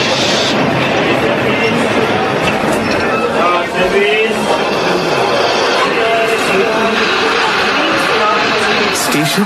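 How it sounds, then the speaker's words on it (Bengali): Train pulling into a small station as a radio-drama effect, a dense, steady rumble and clatter of wheels and carriages filling the scene at close range with no voices. "স্টেশনে ট্রেন থামতেই হ্যাটকোট পরা সুরনাথ বাবু নেমে পড়লেন"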